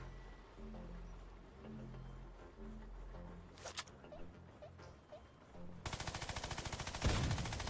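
Mini Uzi fire in Worms Battlegrounds, a rapid automatic burst of close rattling shots near the end, following quieter game music and effects.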